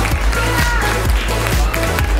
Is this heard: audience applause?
yes